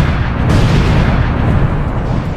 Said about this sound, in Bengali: এখানে আমি অনেকগুলো স্টিকি বম লাগিয়ে দিয়েছি, এবার এগুলো ব্লাস্ট করতে হবে।